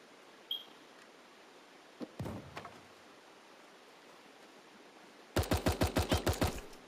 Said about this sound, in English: Oh, them shotguns crazy.